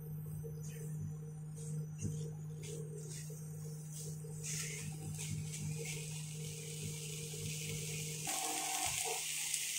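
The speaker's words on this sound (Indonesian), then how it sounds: "So kita kacau-kacau biar carrot tu separuh masak." Carrots being stirred in a pan with chili and chicken: a steady sizzle and frying hiss with soft scraping of the utensil against the pan, under a constant low hum, quiet and close.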